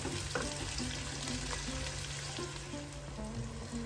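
Chopped tomatoes frying in a pan as a Kerala fish curry is cooked, giving a steady, close sizzle that runs unbroken throughout, with faint scraping stirs now and then.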